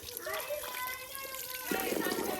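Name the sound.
splashing cold water while washing feet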